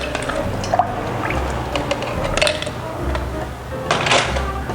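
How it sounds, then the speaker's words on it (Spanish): Excess water drained off ice while preparing a Long Island Iced Tea cocktail: liquid pours and splashes in uneven bursts against ice and glassware, with a couple of sharper clinks along the way. "escurrimos siempre nuestro exceso de agua"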